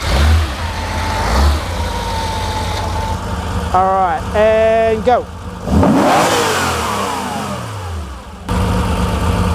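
A Porsche 911 2.8 RSR engine on a dyno is revved with sharp throttle blips that rise and fall in pitch over a steady running rumble, loud and close, with someone talking briefly.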